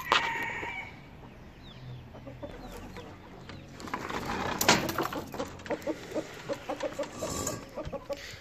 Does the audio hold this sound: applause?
no